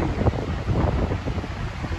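Strong wind on a beach buffets the microphone in uneven low rumbling gusts, with a steady hiss of surf and waves underneath.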